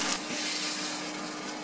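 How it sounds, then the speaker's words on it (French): Broth poured over beef bourguignon meat in a pot, a steady, close, fairly loud rushing splash that runs unbroken for a moment without any talking. "Ensuite, on va couvrir avec le bouillon."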